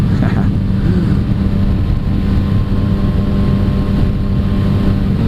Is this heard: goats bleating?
no